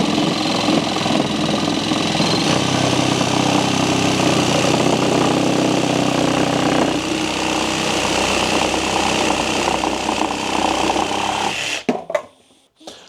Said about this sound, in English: Let's see how good this cutting power is.